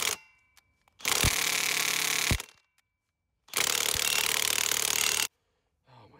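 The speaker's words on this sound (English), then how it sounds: "it's not even going in with an impact wrench" An impact wrench driving a bolt into a pole barn post bracket, two loud sustained bursts of harsh hammering rattle, each lasting one to two seconds, separated by silence.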